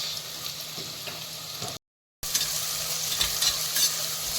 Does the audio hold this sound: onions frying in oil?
yes